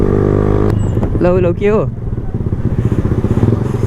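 A Yamaha R15M motorcycle with an aftermarket exhaust idles with a rough, misfiring rumble and lets out a brief rising rev, close and loud, while people talk nearby.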